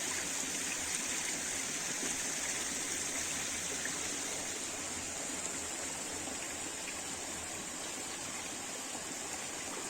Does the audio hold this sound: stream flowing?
yes